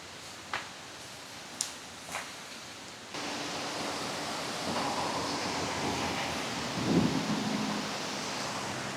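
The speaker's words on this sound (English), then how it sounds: "Oh, it's a waterfall." A waterfall along the Nakasendo trail in Japan: a few light taps give way to a steady, broad rushing roar that holds continuously at moderate loudness, with no talking.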